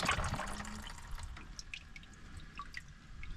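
Oil dripping and trickling from a removed oil filter during an oil change on a 2015–2017 Ford F-150 5.0, starting as a brief splashing pour and settling into scattered close drips.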